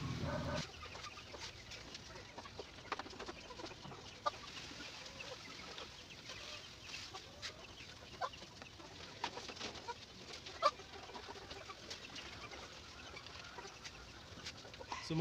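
Chicks in a brooder make scattered, faint, high peeping and cheeping that keeps up throughout over a quiet background.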